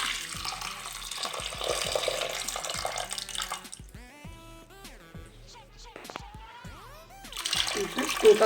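Water pours into a pressure cooker holding soaked lentils in a home kitchen, splashing and gurgling up close in uneven bursts, with dripping and a louder pour toward the end.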